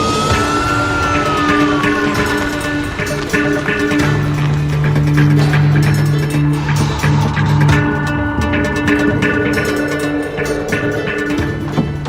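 An ambulance siren wails steadily, with rising and falling tones over a continuous roar of traffic and street noise.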